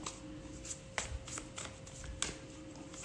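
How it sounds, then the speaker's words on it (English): A deck of tarot cards shuffled by hand, close up, with repeated riffling flutters and soft slaps at an uneven pace over a steady low background hum, no talk. "pull the tarot cards, and the tarot will give me the story, the scenarios"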